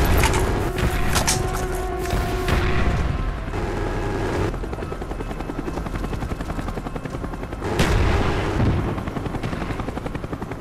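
Cobra attack helicopter in the video game Call of Duty Black Ops, a loud continuous rotor thrum with whining engine tones, swelling twice amid distant booms and gunfire.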